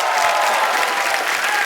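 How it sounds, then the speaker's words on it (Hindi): A television studio audience at a comedy show applauds with dense, loud, continuous clapping that holds steady throughout, with faint crowd murmur underneath. "तो तालियां और तेज हो जाएगा"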